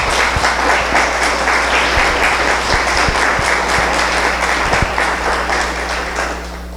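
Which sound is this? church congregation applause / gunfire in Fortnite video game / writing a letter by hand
church congregation applause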